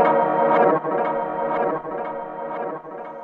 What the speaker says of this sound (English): you can have a reverse forward delay, which kind of sounds like it's going back and forth